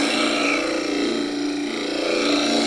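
A skew chisel held flat as a scraper against radiata pine spinning on a wood lathe makes a steady, harsh, rasping whir that carries on unbroken and fairly loud throughout.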